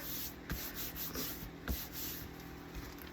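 Paper signatures being burnished down inside a junk-mail junk journal, giving soft, close rubbing and scraping strokes in irregular bursts, fairly quiet, with no voices.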